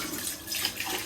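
Tap water runs steadily into a sink while a tea pot is rinsed under it, a close, continuous splashing hiss with no talking.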